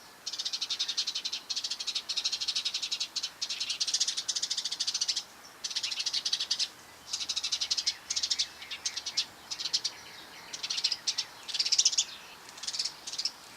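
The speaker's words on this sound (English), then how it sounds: "it's a good sized bird." Large birds call busily outdoors near Italian cypress trees, sounding like a parent with young: dense, rattling chattering in repeated bursts with short pauses, fairly close and steady throughout.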